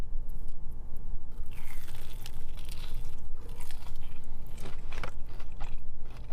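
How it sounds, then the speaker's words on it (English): Crispy fried cheese is bitten and chewed close to the mic, with continuous loud crunching, crackling and wet chewing over the whole stretch and no talking. "First up, we have this crispy fried cheese."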